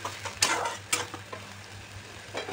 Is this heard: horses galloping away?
no